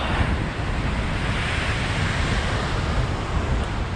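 Loud, continuous roar of surf and wind below a 50 m cliff ledge on the Eyre Peninsula, South Australia, the rushing waves blending into a dense wash with no clear gaps between them.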